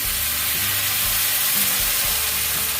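Eggplant stir-fries in a pan with mushroom sauce and other sauces, a steady close-up sizzle and hiss with occasional soft scraping of the spatula throughout.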